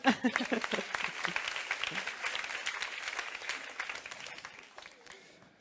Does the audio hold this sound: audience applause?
yes